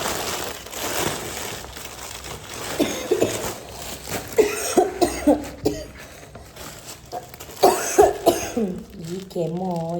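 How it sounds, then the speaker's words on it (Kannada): A person coughs in short, harsh bursts, a cluster in the middle and another near the end, mixed in with their own talking and some crinkling of packaging nearby. "ಈ ಕೆಮ್ಮು ಯಪ್ಪ ದೇವ."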